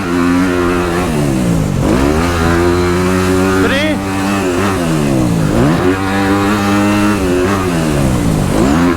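A dirt bike engine on a motocross track revs loudly and close, rising and falling as the rider shifts between gears, with a rider's voice talking over the engine noise.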